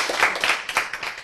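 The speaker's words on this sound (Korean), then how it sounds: "박수 치세요." Audience clapping at a health and healing Bible lecture: steady, dense applause from a crowd, fairly loud and continuous with slight swells.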